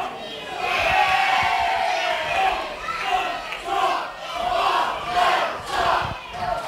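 A capacity crowd at a live WRESTLEFORCE wrestling show in Witham roars, cheers and shouts throughout, a dense swelling wall of voices with repeated surges and chants rising and falling.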